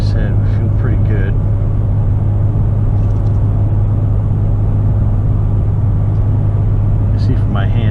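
A car driving fast on a road, with a steady loud engine and tyre rumble throughout and brief faint higher sounds at the start and end.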